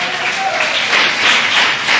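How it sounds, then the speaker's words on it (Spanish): A church congregation applauds during a Spanish-language worship service, a brief dense burst of clapping filling the space, loud and continuous throughout. "dele un aplauso al Señor"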